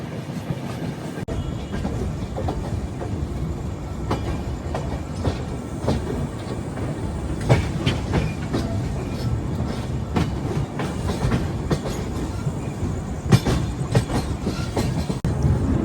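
A passenger train from Kacheguda, Hyderabad, to Bhagat Ki Kothi, Jodhpur, heard from onboard near Itarsi Junction: a continuous rumbling roll with rhythmic clickety-clack wheel beats and occasional metallic knocks, loud and close, without speech.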